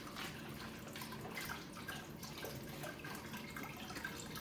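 Vodka trickles slowly from a bottle fitted with a pour top during coffee liqueur making, a faint, steady watery splashing and dribbling that runs without a break and stays quiet and close.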